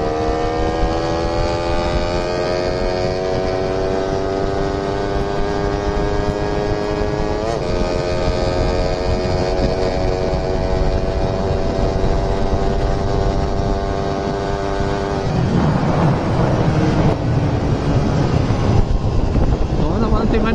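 A Raider FI motorcycle exhaust in a street race, a loud steady engine drone with rising pitch that shifts near the end, mixed with wind noise and voices talking over it.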